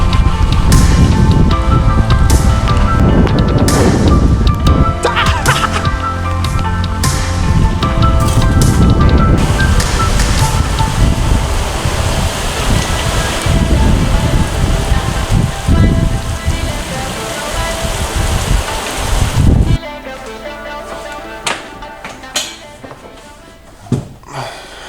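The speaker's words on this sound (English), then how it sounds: "The rain is not letting up." Dense, steady downpour of a storm in Haiti roaring for about twenty seconds, then dropping abruptly to quieter scattered patter and drips.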